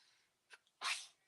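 A single sharp sneeze, preceded by a faint quick intake of breath, nearby and otherwise quiet.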